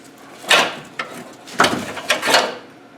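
An old car radiator is worked loose and pulled out, making several scraping, rattling bursts of plastic and metal, close and fairly loud, with short pauses between them and no talking.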